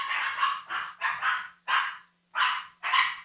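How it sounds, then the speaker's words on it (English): Dogs bark after a doorbell rings, firing about six loud, sharp barks in quick succession with short gaps between them and no talking. "Someone rang the doorbell and the dogs are going crazy."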